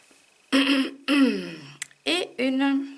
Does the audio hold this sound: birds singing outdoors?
no